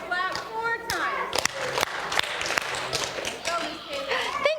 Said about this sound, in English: You can hear my voice, clap 4 times.